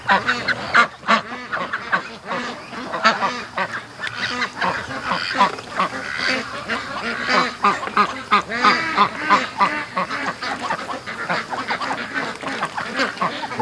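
A free-range flock of tall geese and ducks honks and quacks continuously, with loud, overlapping calls in a busy, close-up chorus that rises and falls in short bursts.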